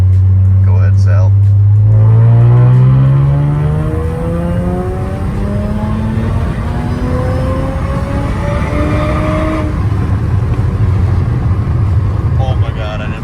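Audi S5 engine revving hard in a third-gear pull from about 2,000 RPM up to redline, a loud continuous rising drone that climbs steadily in pitch, heard close and alone.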